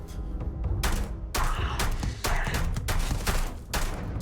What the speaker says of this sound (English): I'm being shot in the head.